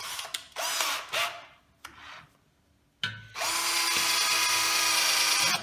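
An Einhell TC-CD 18/35 Li cordless drill driver whirs in short bursts, stopping and starting, then runs steadily at high speed for a couple of seconds, close and fairly loud.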